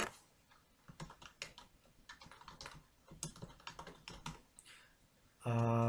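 Keys clatter in quick uneven bursts on a computer keyboard while a place name is entered into a map search field, close and clear, ending with a short louder buzzing tone.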